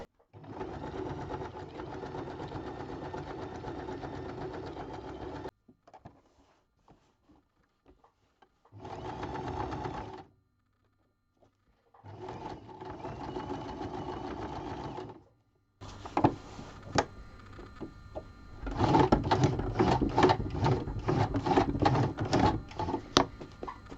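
A sewing machine stitching a silhouette onto colourful gel-plate-printed fabric runs in several bursts of steady, close mechanical whirring, with short pauses between runs and a faster, louder stretch at the end.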